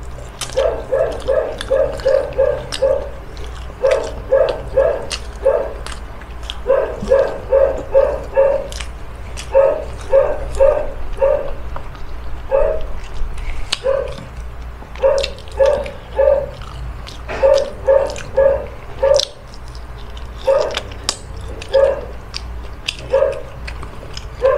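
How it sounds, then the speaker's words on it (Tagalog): A dog barks repeatedly at close range, in quick bursts of sharp yaps separated by short pauses, loud and continuing throughout with no talk over it. "Ayun, aso."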